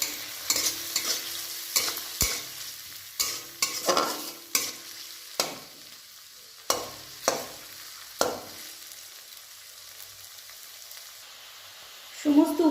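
Chopped garlic, ginger, green chilli and onion fry in a pan for palak paneer, a soft continuous sizzle broken by a dozen sharp scrapes and knocks of a spatula stirring at irregular intervals, then a louder clatter at the end.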